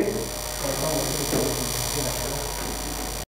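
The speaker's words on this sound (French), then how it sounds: "les ventilos là serrés en train de tourner" Cooling fans running inside a data-centre network equipment rack, a steady close whirring hum with a constant electrical drone beneath, unbroken from start to finish.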